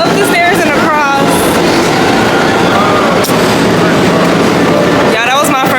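A New York City subway train roars loud and steady on the tracks, with rattling, screeching wheels and a brief clank, heard from inside the car.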